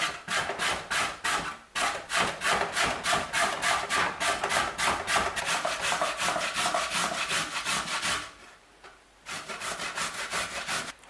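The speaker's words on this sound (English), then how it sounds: "the next thing we're going to do is to grate the carrots" Carrots rubbed against a kitchen grater in fast, even rasping strokes, loud and close, with a short break partway through before the scraping resumes.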